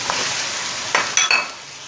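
Chicken sizzles with onions and ginger-garlic paste in a karahi for a Lahori chicken curry, a steady close hiss broken by a few sharp metal clinks of a spoon against the pan, with no voices.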